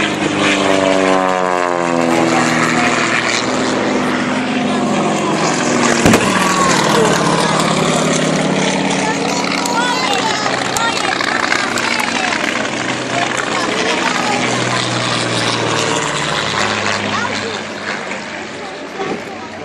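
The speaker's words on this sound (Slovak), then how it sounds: "Teraz sa nám blíži ďalšie lietadlo" A propeller airplane drones overhead, its engine pitch sliding as it draws nearer, with someone talking over the steady roar.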